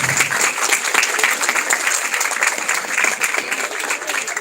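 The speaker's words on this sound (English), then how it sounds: "Let's have a huge round of applause." An audience at SICA College in Indore gives a sustained round of applause, bright and fairly loud, holding steady from start to finish with no talk over it.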